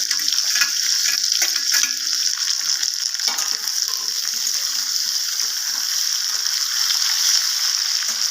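Chopped tomato sizzling in hot oil in a pan: a loud, dense, steady hiss fills the clip, close up, with faint scattered clinks and crackles underneath.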